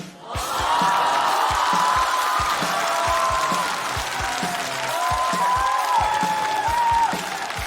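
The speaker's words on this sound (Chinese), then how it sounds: "我们掌声有请南瓜" A studio audience applauds to welcome comedian Nangua onto a stage show. The clapping is loud and sustained and is joined by scattered cheers and whoops from the crowd.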